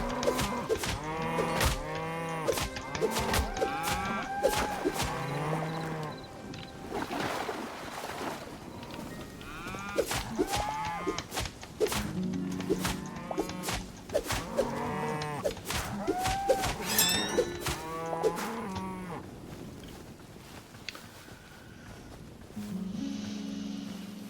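A herd of cows in the video game Hytale moos repeatedly for over twenty seconds, overlapping calls near and close together, rising and falling in a busy, continuous stream over faint wind-like background.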